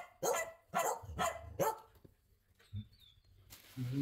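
Several of the more than 40 dogs at a rescue home in Duc Hoa, Long An bark in a quick run of four loud, close barks, followed by quieter yips and whimpers.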